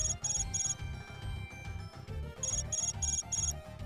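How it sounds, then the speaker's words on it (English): A mobile phone ringtone chimes in Hyperdimension Neptunia Re;Birth 1, repeating bright bursts in a steady pattern over a looping game music backdrop, with no one talking. "That's not my cell ringing."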